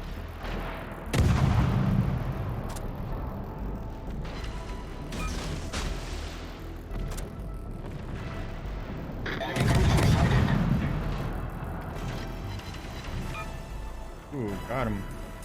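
Warship guns firing in a naval video game, two heavy booming salvos several seconds apart with rumbling tails and smaller shots between, under a player talking.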